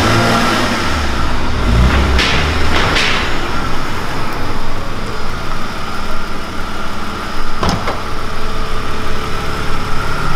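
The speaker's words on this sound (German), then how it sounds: "So, wir lassen ihn gerade warm laufen." The M54 engine of a BMW E46 idles loudly while warming up, giving a steady low rumble throughout with a couple of brief louder bursts and clanks nearby.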